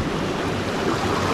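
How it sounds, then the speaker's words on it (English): Boat running white water river rapids with water coming over the sides, giving a loud, steady roar of rushing, splashing water and wind, close and continuous with no talk. "these might not be class 7 rapids. We do have white water though"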